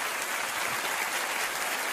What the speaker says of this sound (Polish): Proszę brawa, śmiało